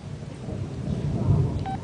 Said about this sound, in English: You can probably hear the thunder right now.